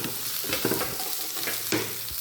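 Onions and tomatoes fry in a pan for a Kerala-style duck roast while a spoon stirs them, with a steady sizzle broken by a few scraping strokes of the utensil, close and fairly loud.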